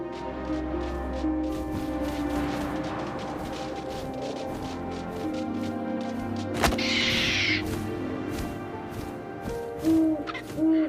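Owl hoots sound in What Remains of Edith Finch, a repeated soft rhythmic hooting over wind and low ambience, with a sharp knock and a brief rustle midway.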